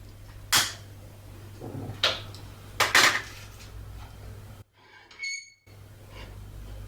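A spoon scrapes and clanks against a hot pan while nuts and sugar are stirred into caramel for candied nuts; a few sharp, close metallic knocks come at irregular intervals, then a brief quieter stretch, with no talking.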